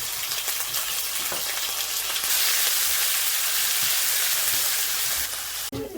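Ginger garlic paste sizzling hard in hot oil just after mustard seeds and curry leaves, a loud, steady crackling hiss that swells midway and fills the clip without any talking.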